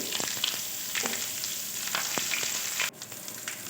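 Dried red chillies, bay leaf, white cumin, whole garam masala and grated ginger crackle and sizzle steadily in hot oil for a paneer and pointed gourd dish, with scattered scraping stirs throughout and a brief dip near the end.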